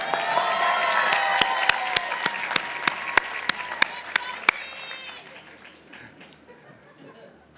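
Crowd applause and cheering at an engineering commencement ceremony, swelling at first then fading out, with a few loud individual claps and scattered chuckles and voices through it.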